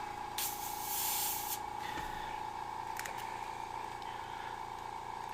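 An airbrush sprays paint while a clogged needle is cleared, giving a steady close hiss that bursts louder for about a second and later sputters, over a constant compressor hum.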